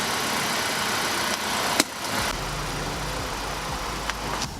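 A 2015 Honda Accord engine runs steadily at the start of a test drive, a close, even hum with a brief click and a deeper rumble settling in partway through, no speech.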